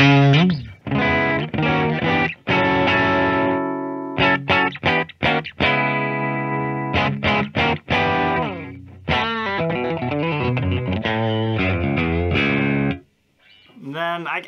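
A 2021 Fender Player Acoustasonic Telecaster plays notes and chords with a full tone blending acoustic and electric pickups in the two position, in phrases with short gaps and a brief silence near the end.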